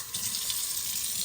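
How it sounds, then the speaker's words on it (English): Water pours into a pan holding pork chops, a bright steady gushing splash starting abruptly and running continuously at close range. "put you a little water up in that pan"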